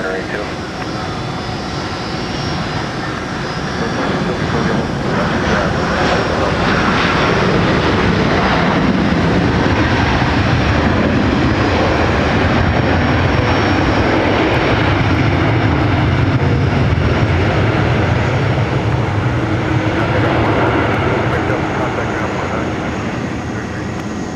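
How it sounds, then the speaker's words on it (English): A Delta heavy jet airliner bound for London Heathrow takes off from runway 30 right at Minneapolis–Saint Paul airport, its engines building into a loud, broad roar that swells and holds, with radio voices over it. "Delta 10 Heavy underway to London Heathrow"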